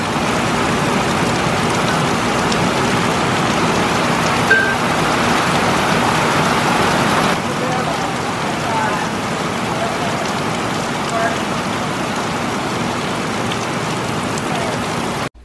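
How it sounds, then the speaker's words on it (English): Heavy rain during a rainstorm pours down in a dense, steady hiss with drops pattering on surfaces nearby, loud and unbroken throughout. "It's been about 5 minutes and look how much rain we got."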